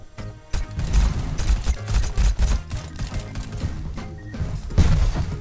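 Chaotic video game gunfire fills the moment, with bursts of rapid shots, heavy thuds and crashing impacts arriving in uneven clusters, loud and close, pausing briefly before another burst erupts near the end.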